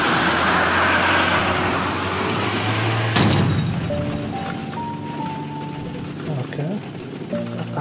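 A car in the video game Downfall drives with a steady low engine rumble, then a sharp loud crack cuts in and the engine tone shifts, rising and falling in stepped pitches as it carries on.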